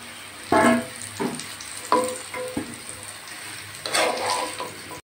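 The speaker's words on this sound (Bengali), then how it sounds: "আলুগুলো লাল লাল করে ভেজে নেব" Potatoes frying in oil, seasoned with salt and turmeric, a close, bubbling sizzle with several louder bursts as the pieces are stirred and turned.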